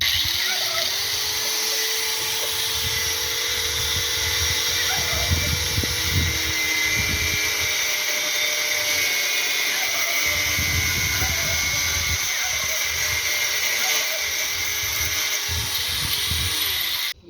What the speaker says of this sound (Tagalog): We'll just start cutting using the grinder.